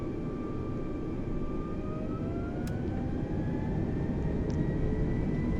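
A320neo jet engines in Microsoft Flight Simulator 2020 spool up for takeoff with a rising whine over a dense, steady rumble.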